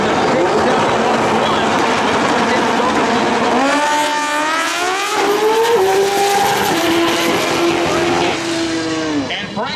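A pro street drag racing motorcycle screams at full throttle down the strip, its loud, high engine note climbing through rapid gear shifts and then falling away, with a race commentator talking over it.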